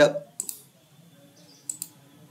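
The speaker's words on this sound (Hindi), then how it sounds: "लेफ्ट बटन से, माउस के लेफ्ट बटन से डबल क्लिक करेंगे" The left button of a computer mouse is double-clicked twice, each pair of sharp, light clicks close together, with a faint voice murmuring underneath.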